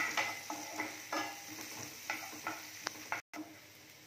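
Chopped garlic frying in a pan of oil while being stirred, giving a steady close sizzle with repeated scraping stir strokes and a brief cut near the end.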